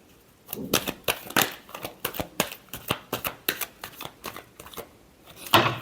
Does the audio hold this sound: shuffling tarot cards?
yes